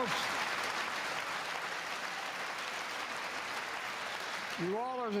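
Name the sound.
crowd applause during the State of the Union address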